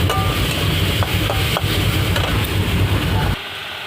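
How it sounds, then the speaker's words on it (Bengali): Boiled taro greens go into a pan of frying onions, bringing a dense, steady sizzle with stirring noises that drops off abruptly near the end. "কচু শাকটা দিয়ে দিয়েছি"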